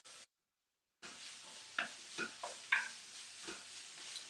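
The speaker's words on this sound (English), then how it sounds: "sorry, at the beginning, Alan, did you put any oil to begin with before you start frying?" Food frying in olive oil gives a soft, steady sizzle and crackle with a few light stirring scrapes and knocks, faint and close, with no talk over it.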